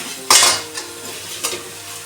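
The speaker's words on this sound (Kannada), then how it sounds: "ಈಗ ಅವಲಕ್ಕಿ ಫ್ರೈ ಮಾಡಿಕೊಂಡು ಹಾಕಬೇಕು." Beaten rice (avalakki) dry-roasting in a pan without oil, with a sharp scrape of a spoon stirring the flakes and a couple of softer scrapes after, close and alone with no talk.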